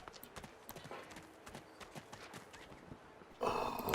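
Horse hooves clip-clop steadily in the video game Divinity Original Sin 2, a quick, even rhythm at moderate distance, ending in a louder swell of noise near the end.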